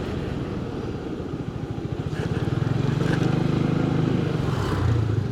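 A Yamaha XMAX 250 scooter engine runs steadily with a throbbing, pulsing idle that swells a little louder midway, heard close up and alone.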